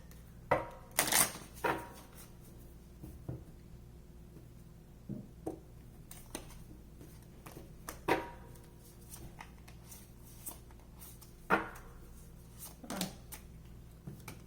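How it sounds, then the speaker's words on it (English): Tarot cards are shuffled by hand in a quiet room, with soft scattered riffles, taps and brushing slaps coming in short, irregular bursts, faint and close with no talk. "One more shuffle, please."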